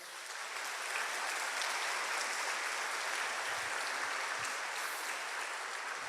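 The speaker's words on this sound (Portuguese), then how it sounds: "Dá um aplauso ao Senhor." A church congregation gives a round of applause to the Lord, a broad steady wash of clapping from many people that swells slightly and then holds.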